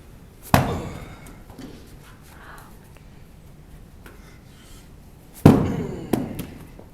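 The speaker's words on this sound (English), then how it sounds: "now you're gonna hit it on the other side" A coconut is struck hard against a surface at an airport, two sharp, loud cracking impacts about five seconds apart, the second followed by a smaller knock, with quiet background between.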